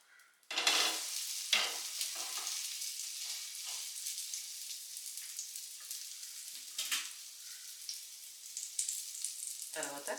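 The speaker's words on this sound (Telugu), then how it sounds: "ఇప్పుడు ఈ బ్రెడ్ స్లైస్ కొంచెం ఫ్రై అయిన తర్వాత అటు సైడ్ తిప్పుకొని ఫ్రై చేసుకోవాలి." Bread slices sizzle steadily in a hot pan for an egg toast breakfast, with a bright crackling hiss that persists throughout and a few louder spatters when the slice is moved or flipped.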